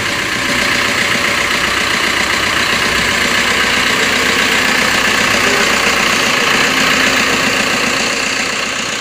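Maruti Vitara Brezza engine idling steadily right after a fresh oil change, a loud continuous mid-low rumble with a faint knocking texture, close to the bonnet and with no voices.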